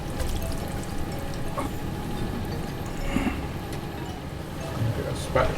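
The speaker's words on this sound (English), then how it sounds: "I'm gonna get this into my pan." An egg and tortilla mixture for jerk tortilla slides and glugs from a bowl into a pan, a soft, close pouring sound with a few light knocks under steady background noise.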